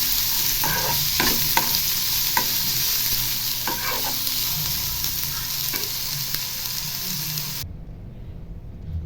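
Two large, finely chopped onions fry in hot oil for a mutton green curry, a close, steady sizzle with occasional stirring scrapes, fading sharply near the end.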